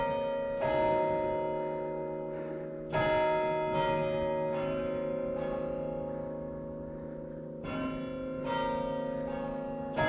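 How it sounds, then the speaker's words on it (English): Evesham Abbey's church bells ring out in slow, resonant strikes at roughly two-second intervals, each tone sustaining and decaying into the next, loud and clear outdoors with no talk. "Who'd have thought that quarter to seven was the time you'd get the chimes?"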